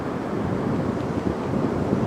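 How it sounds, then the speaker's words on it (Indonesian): Strong wind buffets the microphone on Batu Hiu beach in Pangandaran on a late afternoon as the tide rises, a loud, steady roar with surf rumbling underneath. "Dan ini anginnya sangat kencang sekali sahabat tuh."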